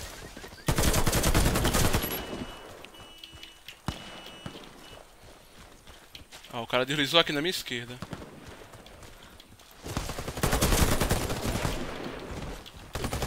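Bursts of rapid AK-103 gunfire in Warface, loud volleys near the start and end, with someone talking excitedly in Portuguese between them.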